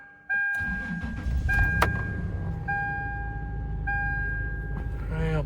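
A Toyota Tacoma pickup engine cranks and catches after the key turns in the ignition, then settles into a steady close idle while a repeating warning chime rings over it.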